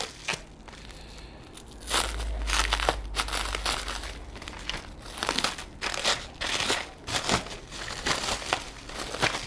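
Cellophane wrapping being pulled off a package, a dense run of close crinkling and crackling with sharper tearing bursts, loud and steady throughout with no talking.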